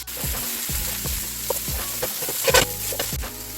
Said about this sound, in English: I'm just gonna let them brown in the pan.